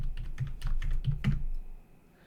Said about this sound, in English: Just in case, let me type again.